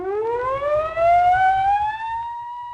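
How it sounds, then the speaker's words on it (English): Steering casualty alarm aboard the destroyer escort USS Slater, a single loud rising siren wail that sweeps upward and holds a steady high tone, heard alone. "An alarm would blast in aftersteering"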